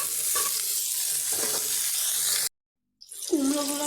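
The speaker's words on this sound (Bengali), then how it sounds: "এখন আমি কুমড়ো ভেজে নেবো" Pumpkin pieces frying in a pan hiss steadily and close up, then cut to silence for about half a second before the frying resumes with a rising tonal squeal.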